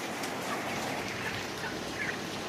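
A flock of chickens in a poultry house on a farm, a steady dense murmur of clucking and low calls filling the space, with no voices.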